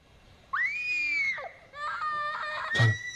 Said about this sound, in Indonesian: Mendengar suara teriakan Jan yang berasal dari kamar lain